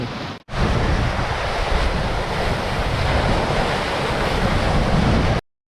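Strong 20-22 knot wind and crashing waves around a racing sailboat at full speed on the open sea near Les Sables d'Olonne, a loud continuous roar of gusts and rushing water with heavy microphone buffeting, after a brief cut at the start.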